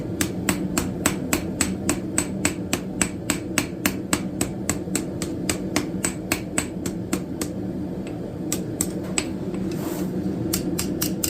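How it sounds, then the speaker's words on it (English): A lighter blacksmith's hammer strikes forged metal on an anvil while smoothing a candle snuffer, a steady run of sharp, ringing taps at an even brisk rhythm, close and clear, briefly pausing near the end. "I'm going to switch to a lighter hammer"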